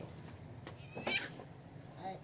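A pet cat being carried out during a move to an animal hospital for recovery meows a few times, fairly quiet and partly masked by background voices and handling noise.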